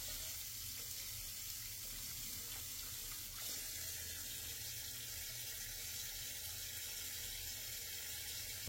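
Water runs over a Vivo V50e phone during a water-resistance test, a continuous loud hiss and splash like a running tap, steady throughout with no talking.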